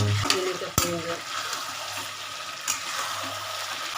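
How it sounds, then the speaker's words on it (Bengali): Chicken and potatoes sautéing in a thick gravy in a home kitchen, a steady close sizzle and bubbling with a few sharp clanks of a stirring spoon against the pan, no talk. "কষা কষানো হয়ে গেছে চিকেনটা আলুগুলো দিয়ে দিলাম"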